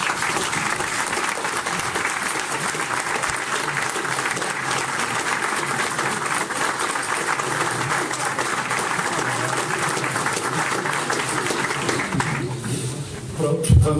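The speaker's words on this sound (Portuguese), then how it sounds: "por favor, uma salva de palmas de pé" A standing ovation at a debate club's seventh anniversary gathering swells into dense, continuous crowd applause. It holds loud and even for most of the span, with voices mingled in, then thins out at the very end.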